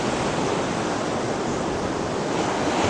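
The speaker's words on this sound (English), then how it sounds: "But I listen to the sound of the ocean coming in." Ocean surf rushes at the beach by Fort Macon in a steady, broad wash of noise, waves breaking continuously at moderate loudness with a touch of wind.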